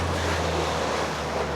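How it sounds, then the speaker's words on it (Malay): A constant roar of strong surf and rushing water at a river mouth on a rising tide, mixed with wind noise on the microphone and a low hum, loud and unbroken. "Air mula pasang ya, ombak kuat."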